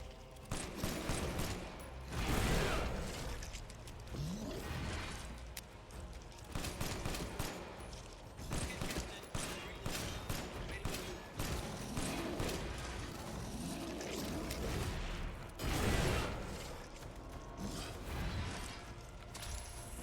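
Rapid bursts of gunfire in the survival horror game Resident Evil Village, loud repeated shots and mechanical clatter running steadily through the whole stretch with no talking.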